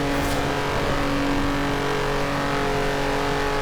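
An all-wheel-drive car driving and turning produces a loud, steady engine hum with a constant tonal whine and road noise, close up and with no voices.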